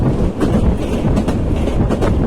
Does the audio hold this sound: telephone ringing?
no